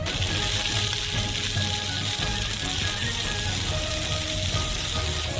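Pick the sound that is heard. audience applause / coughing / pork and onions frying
pork and onions frying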